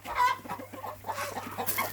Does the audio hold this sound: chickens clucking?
yes